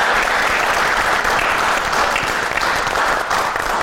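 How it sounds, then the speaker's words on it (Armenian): Studio audience applauding the guests of a game show, a full, steady wash of clapping that holds at an even level throughout. "Եկեք ծափարենք մեր հյուրերին։"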